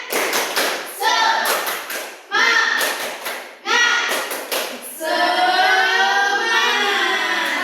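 Children repeat the tepuk semangat spirit clap in a classroom, loud patterned bursts of clapping in groups, finished by a sustained collective cheer.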